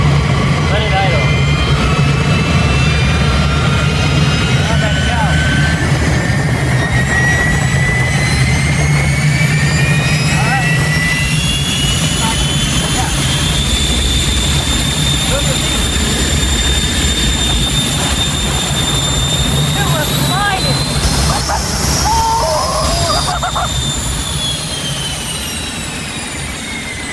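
A fighter jet engine fitted to a mini truck roars loudly and continuously, a steady turbine whine with rising and falling pitch sweeps and deep rumble throughout, easing slightly near the end.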